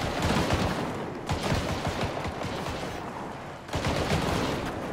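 A mounted gun in the video game Earthfall fires continuously in a rapid, dense stream of shots, loud and close, with one brief dip before the firing resumes.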